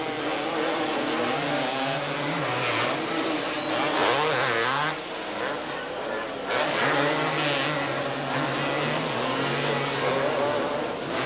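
Suzuki and Honda quads race on a dirt racetrack, engines droning and revving in overlapping waves, rising and dipping as they accelerate and pass, with crowd noise beneath.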